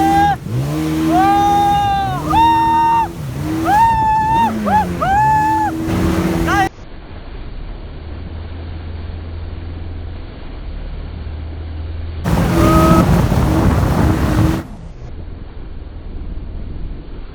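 A speedboat heads out to sea off Cox's Bazar in Bangladesh. A steady rush of wind and a low engine drone fill the middle of the ride, with melodic music before it and breaking in briefly partway through.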